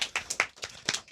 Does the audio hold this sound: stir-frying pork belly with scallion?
no